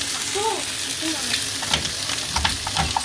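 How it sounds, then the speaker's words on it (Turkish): Potatoes fry in a pan with a steady, moderate sizzle, broken by a few light clinks and stirring sounds near the end. "patatesler pişiyor."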